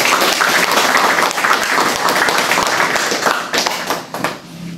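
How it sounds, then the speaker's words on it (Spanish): Audience applause at a talk on political economy and social justice, loud, close clapping that holds steady and then thins out and fades near the end. "lo primero que pido es un aplauso para ustedes que se vinieron desde sus casas"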